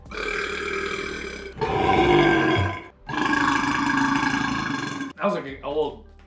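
Two long, loud, gravelly belches follow each other during a burping contest, each lasting over a second, heard up close, then a short burst of speech.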